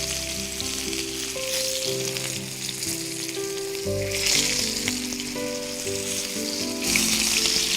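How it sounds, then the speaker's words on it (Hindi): Fish frying on a hot tawa gives a steady, dense sizzle with bursts of spattering crackle, close and loud, while soft background music plays throughout. "फिश को आपको दोनों साइड से फ्राई करना है"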